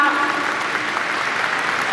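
Audience at a Rebuilding Korea Party national members' convention applauding in a dense, steady wash of claps that fills the hall evenly, with a faint voice mixed underneath.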